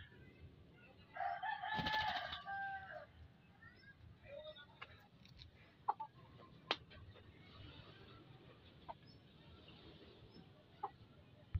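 A rooster crows once, fairly close, followed by scattered soft clucks from young pullet hens and quiet farmyard sounds in a hushed backyard setting.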